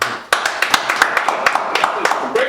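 A small group of people claps in a quick, uneven patter of sharp hand slaps lasting a couple of seconds, fairly close and loud, with a voice talking underneath.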